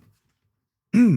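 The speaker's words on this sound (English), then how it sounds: "you clearing your throat made me feel like I had to clear my throat" A single short throat clearing erupts near the end after near silence, one brief voiced rasp close to the microphone.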